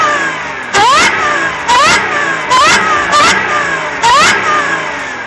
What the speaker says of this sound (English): The third thing I love about the S4 is the supercharger, because this piece is not for show.